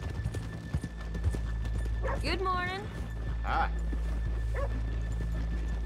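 Horse hooves clip-clopping in Red Dead Redemption 2, a moderate steady clatter alongside rain-like ambience and a whinny, with brief spoken greetings over the top.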